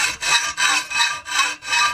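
A hacksaw cuts through a workpiece held in a vise, tilted to a steeper angle so fewer teeth bite. Six steady, evenly spaced rasping strokes sound close and loud, each separated by a short gap, with no voices.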